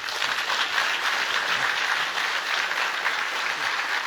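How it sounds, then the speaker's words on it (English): An audience at an army summit applauds the army chiefs of the Nordic countries, a dense, even wash of clapping from many hands that stays loud and steady throughout. "a big round of applause for the army chiefs of Nordic countries"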